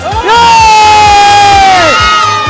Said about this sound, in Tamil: நீங்க நல்லா சத்தம் போடலாமா?